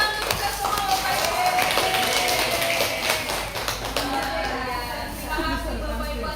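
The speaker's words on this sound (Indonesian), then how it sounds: "Tepuk tangan untuk kita semua, Bapak Ibu." An audience of teachers at a training session in Mempawah gives a round of applause, continuous clapping with crowd murmur and some tonal sound beneath it, fairly close and even throughout.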